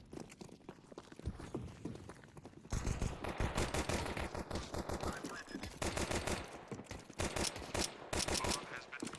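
Rapid Glock pistol fire in the video game Counter-Strike 2: dense bursts of quick, sharp shots that grow louder and more continuous partway through, with some talk underneath.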